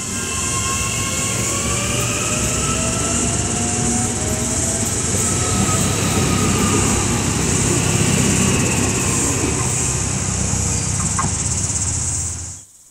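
Electric passenger train at an Auckland railway station, a loud continuous rumble of rolling wheels and motors with faint squealing tones, steady for most of the run before cutting off abruptly.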